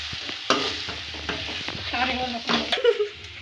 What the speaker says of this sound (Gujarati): હવે તેમાં આપણે બટેટા ઉમેરી દઈશું હવે તેને હલાવી લાવ